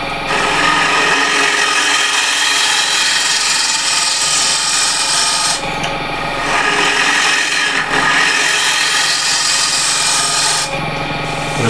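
A freshly burred card scraper works across a rippled ash plate in long, close, raspy strokes, each rough scrape separated by brief pauses, with no voices.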